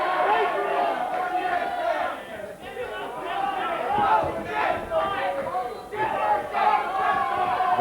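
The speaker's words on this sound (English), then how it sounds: "And the Delaney supporters in the crowd can sense victory here." A boxing crowd at a 1995 WBO Intercontinental title fight cheers and chatters for Delaney in a steady, loud roar of many voices.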